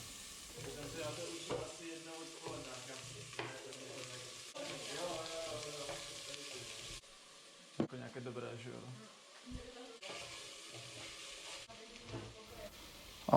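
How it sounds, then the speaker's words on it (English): Onion fries in olive oil in a pot, a soft steady sizzle and stirring close up, with a person talking over much of it and some kitchen clatter. "and we will start frying our onion"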